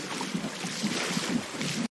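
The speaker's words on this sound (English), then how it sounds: "swashing seawater," Steady broadband wash of seawater sloshing and swirling, continuous and fairly close for two seconds, then cutting to silence.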